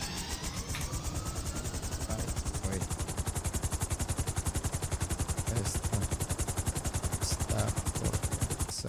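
Helicopter rotor in a video game, a steady, fast thumping chop that runs close and loud through the whole stretch, with a constant engine whine underneath and no voices.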